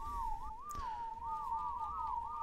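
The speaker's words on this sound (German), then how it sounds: "Kannst du nur gerade das Pfeifen übernehmen?" A person whistles a wavering, sliding tune of quick rising and falling notes. It is steady and fairly faint, with no other sounds.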